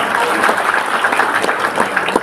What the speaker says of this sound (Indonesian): Tepuk tangan buat coba.